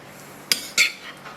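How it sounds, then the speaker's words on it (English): A utensil clinks twice against a bowl while stirring shredded mozzarella with olive oil, two short close metallic taps followed by a faint scrape. "Next, I'm going to just stir that up with some olive oil."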